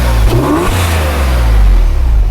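The flat-six of a 2006 Porsche 911 Carrera S (997.1) is blipped, a loud, close exhaust rev that rises sharply and falls back to a deep, steady idle.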